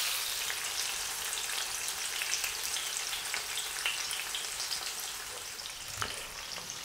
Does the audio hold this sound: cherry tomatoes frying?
yes